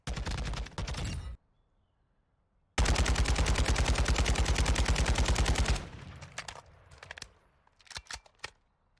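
Rapid automatic fire from the Kastov 7.62 rifle in Modern Warfare 2 comes in two loud sustained bursts, a short one and then a longer one, followed by a few scattered shots.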